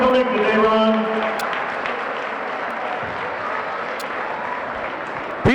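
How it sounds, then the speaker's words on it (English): Crowd applause fills a high school basketball gym at a boys' game on senior recognition night, a steady dense clapping that swells early and then holds, with a voice speaking over the start. "Ron, Chris, would you please stand up and give a wave to the crowd, and let's give Ron a hand."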